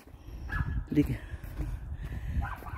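A dog barks from behind a fence around village houses, a few short barks at a distance mixed with faint yips, set against low ambient noise and nearby talk.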